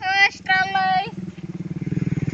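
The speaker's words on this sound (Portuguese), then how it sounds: "Lá vem moto de novo" A motorcycle approaches and passes on a street, its engine rising into a loud, pulsing drone, while a voice talks over the start.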